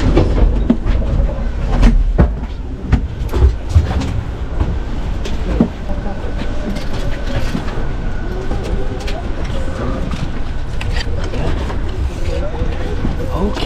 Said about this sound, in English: The trains, the Amtrak trains, actually are a pretty nice way to travel as long as you're not in the biggest hurry.